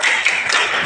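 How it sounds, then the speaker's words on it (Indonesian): A group of people claps together in the tepuk salut chant, sharp close hand claps in a quick, steady rhythm filling a short burst. "saya minta kita beri tepuk salut untuk kita semua"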